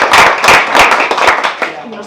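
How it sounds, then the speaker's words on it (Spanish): Clapping breaks out at a diploma presentation after a graduation ceremony, with hand claps sounding close and bright while voices talk and cheer over them. "quisiera pedir un aplauso"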